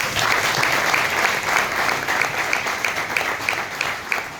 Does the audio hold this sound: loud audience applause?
yes